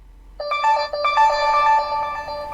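A mobile phone ringtone plays loud and close, a bright melodic electronic tune of repeating tones that starts abruptly and keeps ringing steadily, with no talk over it.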